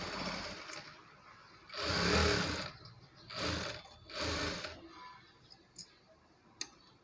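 A sewing machine runs in three short bursts of rapid mechanical whirring while top-stitching a work blouse, with faint ticks and clicks in the pauses between runs.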